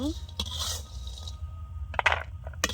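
A spatula scrapes a frying pan while fried lentil dumplings are lifted out, with several short, close metallic scrapes and clinks separated by quiet gaps over low background hum.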